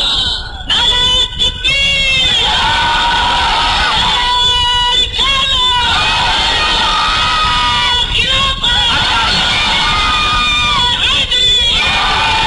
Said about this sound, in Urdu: میں چاہنا آج ایسا نعرہ مارو کہ مدینہ شریف پہنچ جاؤں